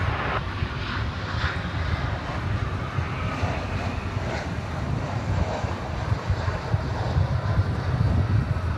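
An American Airlines Boeing 737-800 arriving from Belize City at DFW Airport, its jet engines a steady, broad roar held for several seconds, mixed with wind buffeting on the microphone.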